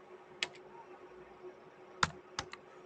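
Python code being typed on a computer keyboard: a few sparse, distinct key clicks in small clusters, close and fairly quiet, with no talking over them.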